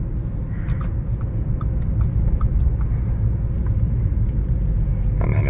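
A B8.5 Audi S4 cruises around town with a low, steady engine and road rumble heard from inside the cabin, smooth and continuous.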